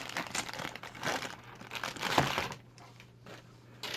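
Crinkling, crackling packaging being unwrapped from the modular box of a Roccat NYTH MMO gaming mouse, close and continuous with a louder crunch partway through, then quieter rustles toward the end.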